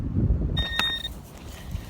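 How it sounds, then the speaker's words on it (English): A single short, steady, high-pitched electronic beep from a metal detector sounds over a background of low wind rumble on the Thames foreshore. "Just so you can hear how many beeps we're having to deal with here."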